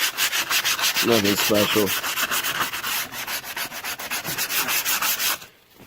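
Hand sanding with 180 grit sandpaper to bevel a part for a DIY E-series door galley, a rapid rhythmic back-and-forth rasp that stops abruptly at the end, with a brief spoken remark over it.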